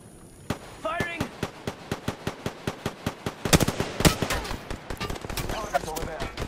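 Video game gunfire rattles off in a rapid string of sharp, loud shots with a few heavier bursts in the middle, while voices call out beneath it.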